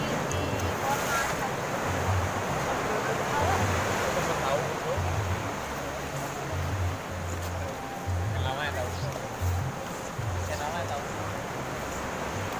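Sea waves washing onto a beach at high tide in the morning, a steady rushing surf with wind buffeting the microphone throughout and a low rumble underneath.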